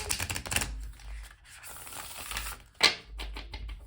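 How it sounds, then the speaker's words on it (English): Cards riffle and slap together in a few quick shuffling bursts, close and soft, with a sharper snap near the end. "Do one more shuffle here."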